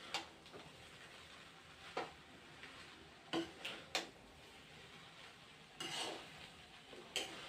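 A spatula stirs an overfilled kadai of food while the cook sits at the stove, giving scattered metallic clinks and scrapes with a faint sizzle underneath and no voices.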